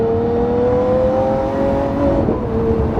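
A Lamborghini Aventador S V12 engine revs loudly and close, a steady high-pitched wail rising slightly then easing off, with no talk over it.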